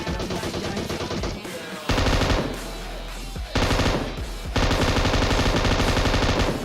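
Rapid automatic gunfire rattles in a mobile battle-royale shooter game in rush mode, with dense bursts broken by short pauses and close, loud shots stacking over one another.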